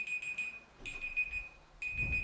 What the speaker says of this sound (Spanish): La alarma.